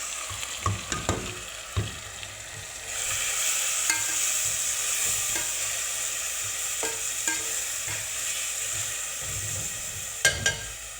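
A blended spice paste with tomato is poured into a hot pan for a duck curry. A loud, steady sizzle bursts in after a quiet start, with occasional sharp clinks and scrapes of stirring.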